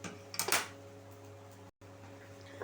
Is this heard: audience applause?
no